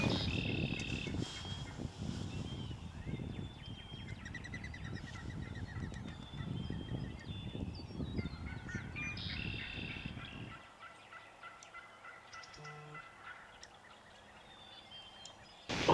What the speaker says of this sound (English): There's some more birds gobbling that way.